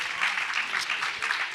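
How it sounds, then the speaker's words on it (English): An audience at a climate legislation event gives a round of applause. The clapping is dense and even, with individual claps audible through the wash, and it lasts a short moment. "Will you please give Audubon another round of applause"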